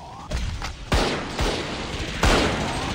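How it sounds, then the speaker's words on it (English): A Valorant swarm grenade goes off as a string of sharp, loud blasts, about four separate bangs spaced across a few seconds with noisy decay between them. "Swarm grenade out."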